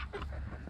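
Chicks and ducks cluck and peep close by at feeding time, a brief busy burst of soft fowl calls.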